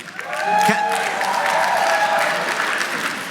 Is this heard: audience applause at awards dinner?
yes